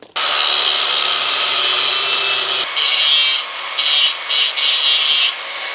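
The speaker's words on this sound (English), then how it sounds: "So here I'm just drilling out the center of the knob." Drill boring out the center of a wooden knob in a workshop: a loud, continuous high-pitched grinding whine that starts abruptly, then shifts into uneven bursts as the bit bites into the wood.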